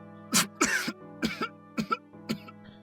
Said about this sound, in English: chokes on air, which quickly devolves into heaving coughs